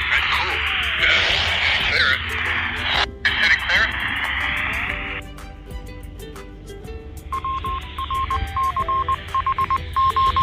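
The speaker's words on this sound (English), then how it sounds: "that's a Morse code, guys." Morse code tones picked up on a handheld radio come through as short, clipped beeps in broken bursts over hiss and static, close and fairly loud, with people talking at times.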